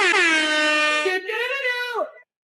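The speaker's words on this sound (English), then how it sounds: "I guess we need a little bit of maybe some applause, some air horns." A loud, blaring air horn sounds in one long continuous blast that wavers slightly before dropping in pitch and cutting off abruptly.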